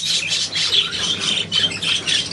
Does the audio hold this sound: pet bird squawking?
yes